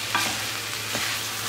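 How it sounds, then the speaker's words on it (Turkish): Bulgur roasts in melted butter in a pan, crackling with a steady close sizzle while a spoon stirs it in a couple of soft scrapes. "1 yemek kaşığı tereyağı. Yağ eriyene kadar bulgurumu da kavurayım."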